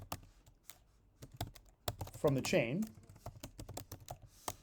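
Rapid clicking keystrokes on a computer keyboard, steady and close, with a person speaking briefly over the typing.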